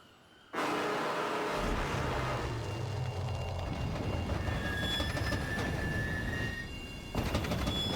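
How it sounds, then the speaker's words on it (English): The Locomobius train in Borderlands 3 rumbles in loudly and steadily, a heavy rolling rail drone with a long high metallic squeal of wheels partway through, then a sharp shift near the end. "Locomobius, chugga chugga chugga choo choo. Are we gonna fight a train?"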